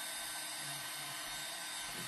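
A craft heat tool runs on its high setting, giving a steady, airy blower hiss like a small hair dryer; fairly faint and constant throughout, with no talking.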